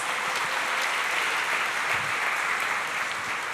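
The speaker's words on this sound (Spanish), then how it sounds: "Give al Señor a strong round of applause" A church congregation gives a strong round of applause, dense, even clapping filling the room steadily from start to end with no talk over it.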